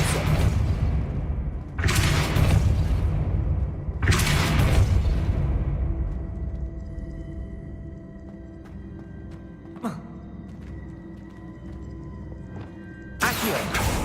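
Depulso force spells cast in the Hogwarts Legacy video game land as loud, broad whooshing blasts, three close together at the start and another at the end, with a quieter ringing game ambience in between.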